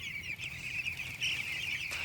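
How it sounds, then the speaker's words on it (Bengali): Chickens clucking on a village poultry farm, a continuous close chorus of soft clucks and chirps over low background hum, with no talking. "এই যে বাম্পার মুরগি।"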